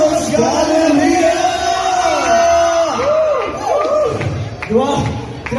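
A noisy crowd of fans at a P-pop festival in a shopping mall cheers and screams loudly, with high excited shrieks and whoops rising and falling nearby, and voices talking through the din.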